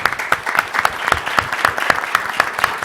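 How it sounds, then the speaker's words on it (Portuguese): A small group at a human-rights committee session claps for a physiotherapist, distinct individual hand claps in an uneven rhythm, fairly close and loud, with no speech. "Queria uma salva de palmas para você, viu?"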